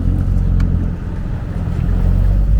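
Nissan Z, a short, light 3,500-pound sports car, pulls hard through a tight U-turn, its engine rumbling loud and steady in the low end and staying close throughout with no talk over it.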